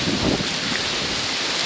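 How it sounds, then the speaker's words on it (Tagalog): Strong wind buffets the microphone in a loud, rumbling rush, steady for a brief moment with no talking. "Lakas din ng hangin."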